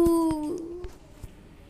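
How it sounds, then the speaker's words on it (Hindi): Cartoon dog giving a single drawn-out whining howl that falls in pitch and fades, followed by a couple of faint soft knocks, with no barking crowd evident. "अरे ये कुत्ते तो मुझे नौच ही खाएंगे"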